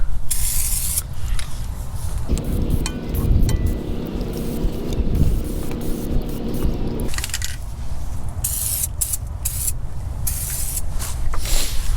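PB Blaster Surface Shield rust protectant sprayed under a car, a steady loud aerosol hiss running almost continuously, with a lower rumbling stretch in the middle.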